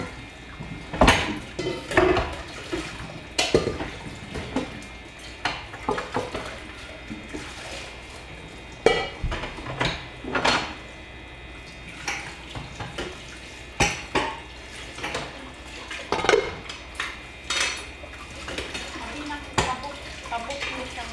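Pots and dishes being washed in a building's kitchen area, with repeated clanks of cooking pots, clattering metal and scrubbing, close by and irregular, over a low background of water and occasional talk.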